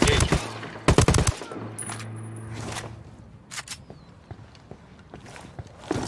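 Gunfire in Ghost Recon Wildlands: two loud close bursts of rapid shots open, then scattered quieter single shots and distant reports follow over background ambience.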